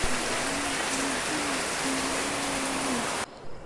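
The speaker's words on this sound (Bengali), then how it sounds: "দেখেন কি পরিমাণ বৃষ্টি হচ্ছে বাহিরে" Heavy rain pours down outside in a dense, steady hiss for about three seconds, with a low hum running underneath, then cuts off abruptly near the end.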